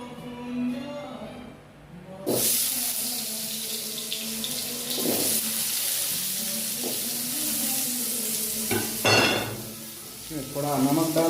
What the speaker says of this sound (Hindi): अब थोड़ा आलू को फ्राई करके ले लेंगे।